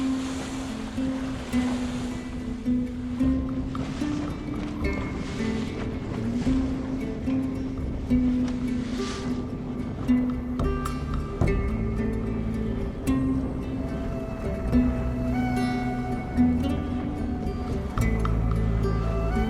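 Ocean waves wash steadily around a sailing boat at sea, with a constant rushing roar and rhythmic creaks and tones from the boat itself, no voices.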